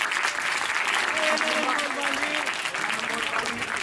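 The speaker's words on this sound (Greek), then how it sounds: "πάμε όλοι μαζί λοιπόν να δώσουμε ένα χειροκρότημα στον Δημήτρη για τη βοήθειά του" An audience at a dolphin show in an Attica zoo park breaks into sustained applause for a helper, a dense, even clapping wash with faint tonal calls threaded underneath.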